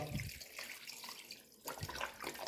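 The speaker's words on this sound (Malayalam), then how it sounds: "പാകത്തിന് വെള്ളം ഒഴിച്ചു കൊടുക്കണം കേട്ടോ." Water splashes and pours steadily into a pot of beef curry, a continuous close liquid rush with a short pause midway.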